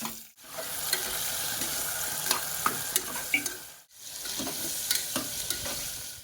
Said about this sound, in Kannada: ಅವು ಸ್ವಲ್ಪ ಮೆತ್ತಗ ಎಣ್ಣೆಗ ಫ್ರೈ ಮಾಡ್ಕೊಂಡ್ಬಿಡೋಣ